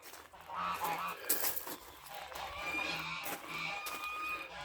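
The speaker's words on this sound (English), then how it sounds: "That is my geese making a row because I haven't fed them." Several domestic geese honk noisily outdoors in a garden, a repeated clamour of calls near the listener as they wait to be fed, with faint background noise.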